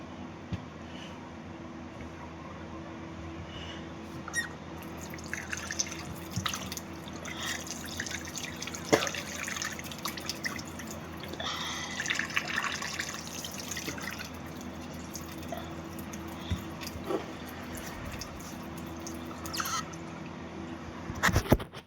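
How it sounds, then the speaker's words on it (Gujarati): Tap water runs and splashes steadily while someone washes their face, a faint continuous trickle with scattered drips and splashes, alone and fairly quiet throughout. "આપણે મોઢું ધોઈ નાખી છીએ"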